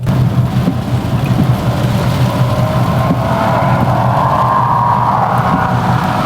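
Steady, heavy rain pours down around a racing event on an airstrip, a dense continuous wash of noise with a low rumble running underneath throughout.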